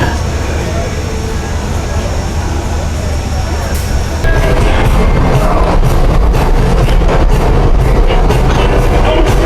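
Steady rumble of a Texas State Railroad train departing Rusk Depot, growing louder partway through with rhythmic rattling and clacking, voices faintly mixed in.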